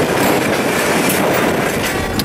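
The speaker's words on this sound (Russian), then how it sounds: "А вот эти самые вагончики, уже груженные песком, уходят к потребителю." Loaded railway wagons carrying sand at a quarry roll past close by, giving a loud, continuous clattering rumble with rhythmic wheel clicks and no voices.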